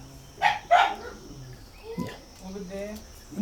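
A puppy at an animal shelter in Darjeeling gives a couple of short, sharp barks close by, followed by softer whimpering yelps, with a faint insect chirp in the background.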